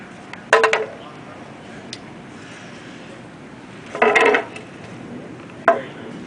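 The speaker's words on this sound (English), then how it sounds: "So let's put the transmission oil pan back on." A transmission oil pan on a 2003 Audi TT is handled and set back in place: a few sharp metallic clanks and rattles, close and loud, separated by quiet gaps.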